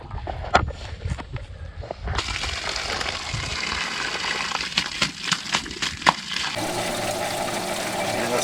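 Water gushes and bubbles out of a newly connected 40mm hose on an extended water system, a steady rushing flow with irregular splashy bursts, close by.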